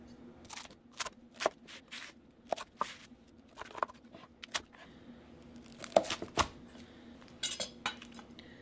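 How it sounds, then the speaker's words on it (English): A cheese crisp cut into slices like a pizza, a sparse series of sharp clicks and scrapes as a cutter or knife hits the plate, fairly close and quiet. "And then you're going to slice it in the same way that you slice a pizza."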